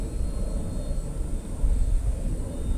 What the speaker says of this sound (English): Great flying airplane.